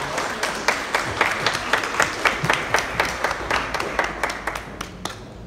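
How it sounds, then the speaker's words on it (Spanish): Sharp, fairly regular clapping from a small group rings out at about four claps a second, slowly thinning toward the end. "Un fuerte aplauso, por favor."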